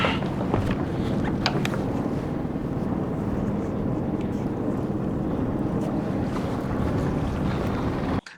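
Strong, gusty wind roars over a sailboat on the water, a steady loud rush with heavy microphone buffeting that goes on throughout and cuts off abruptly at the end, with no voices.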